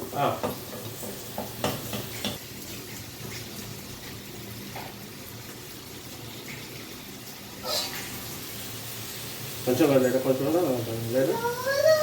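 Bread and egg pieces for an egg bread curry fry in a pan with a soft steady sizzle and occasional stirring scrapes, while people talk over and around the cooking.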